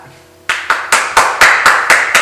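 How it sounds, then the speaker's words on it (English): Rhythmic, evenly spaced claps start after a brief quiet lead-in, about eight sharp hand claps in steady rhythm at the close of a live-streamed show with a studio audience, close and loud with no talk. "thank you for our live studio audience. Bye. Clap."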